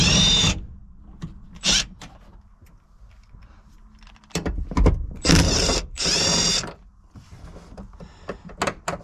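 A power tool undoes the seat bolts inside a 2006 Citroën C1, loud close whirring bursts of about half a second to a second, separated by quieter pauses filled with small clicks and handling knocks.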